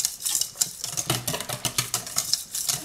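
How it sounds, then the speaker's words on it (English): Soap batter with clay and dried orange peel being mixed in a bowl for citrus soap, giving quiet, rapid clicking and scraping strokes in an uneven rhythm, close and fairly soft, with no voices. "And give that a good mix in."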